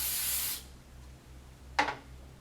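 A spray can hisses onto a screen printing frame in a short burst lasting about half a second, followed by a quiet hum and a brief second puff.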